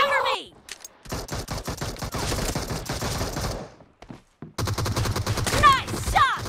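Rapid gunshots from a pistol in the battle-royale video game BGMI, several close, loud bursts of cracking fire in quick succession with brief pauses between volleys.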